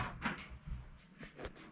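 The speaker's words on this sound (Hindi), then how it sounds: "वो दरवाज़ा खोलना" A wooden door in a hotel room swings open, giving a few soft knocks and creaks spread across a couple of seconds, quiet and close with no talk.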